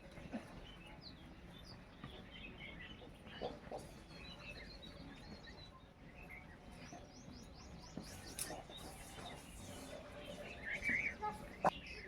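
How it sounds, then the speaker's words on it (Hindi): Faint bird chirps and tweets scattered over quiet outdoor ambience in an Uttarakhand hill village, with soft distant murmurs and a few brief sharper calls toward the end. "आप लोग गांव की आसपास की आवाज़ सुने, नेचुरल साउंड सुने, चिड़ियों की आवाज़ सुने।"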